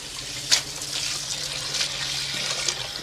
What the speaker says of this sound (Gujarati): ચોખ્ખું પાણી થાય ને ત્યાં લગી ધોઈ લેવાનું.